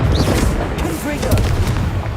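A Confringo fire-blast spell explodes in Hogwarts Legacy, giving a couple of dull booming bursts within steady game noise and ambient clatter.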